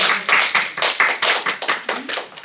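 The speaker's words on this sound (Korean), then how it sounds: "우리 저희 예전에 좀 저희 이제 유산들을 박수로 환영을 해주시고요" A church congregation claps to welcome a visiting missionary during a Sunday worship service, a quick run of sharp, close hand claps in an uneven rhythm, with no talking over them.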